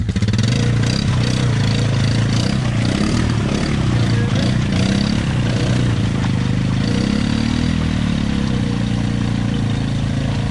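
An off-road vehicle's engine revs hard under throttle on a muddy trail, a loud continuous roar that stays close and dense throughout with no talk.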